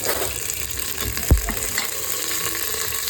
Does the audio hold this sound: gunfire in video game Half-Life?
no